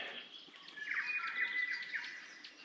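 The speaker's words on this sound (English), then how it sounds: "Oh, there's a robin" A little bush robin sings at a campsite, a faint series of thin, high chirps and short warbling phrases at a distance against a quiet background, with no talk.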